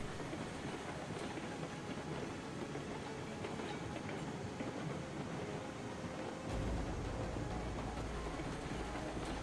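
Train from the game Railroads Online rolling steadily along the track, a continuous dense rumble with rhythmic clickety-clack and hiss, loud and close, deepening into a heavier low roar near the end.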